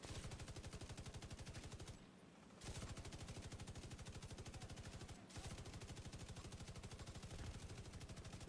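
A video game minigun fires in long, rapid, steady bursts, loud and continuous, with two brief pauses between volleys and no speech over it.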